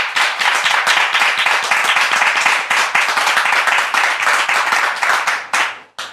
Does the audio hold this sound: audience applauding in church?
yes